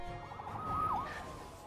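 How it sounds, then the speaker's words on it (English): A police siren from the Spider-Man video game wails briefly at moderate distance, a single rising-and-falling sweep over low background rumble, fairly faint with no talk. "Saved by the siren."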